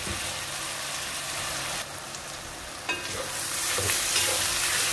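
Mung beans fry and are stirred in a pan for a mash pilaf, a steady soft sizzle with scraping stirs, the frying growing louder and brighter toward the end.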